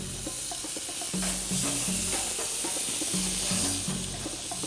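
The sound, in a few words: veal chops sizzling on V-shaped grill grates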